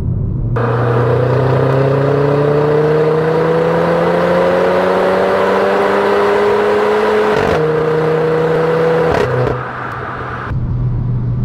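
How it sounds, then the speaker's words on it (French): A Renault Clio 4 RS Trophy in sport mode with automatic gearbox accelerating hard, its engine note climbing loudly and steadily before a quick gear shift, then revving on and dropping back, heard close and with no talking. "Très joli son au passage de vitesse."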